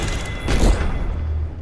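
An Arc Star electric grenade detonates in the shooter game Apex Legends as a single short, loud burst that quickly fades into a low rumble.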